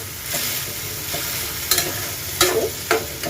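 Red amaranth leaves with tangra fish fry in a pan as a little water is added, giving a steady hiss with several sharper stirring scrapes near the end.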